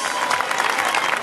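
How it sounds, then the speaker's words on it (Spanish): Crowd applause at a town festa major in Can Parellada, greeting a young girls' dance group, a continuous dense roar of many hands, loud and sustained with a faint murmur of the crowd beneath. "un fuerte aplauso para estas chiquitinas"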